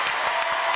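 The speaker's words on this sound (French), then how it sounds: "Encore quelques applaudissements," Brief burst of studio audience applause on a French television variety show, a dense even patter of many hands clapping with no voices.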